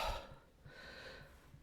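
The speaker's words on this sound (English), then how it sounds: "The breathing's getting more difficult now." Labored, difficult breathing comes close and quiet: a ragged, rasping inhale and exhale with a faint wheezy catch, soft and alone without any speech.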